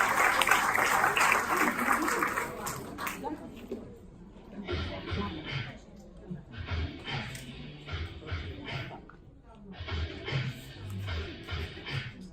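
An audience at a talk on digital communication skills claps to greet a speaker; a loud burst of applause fades after a few seconds into scattered sparse claps and light shuffling.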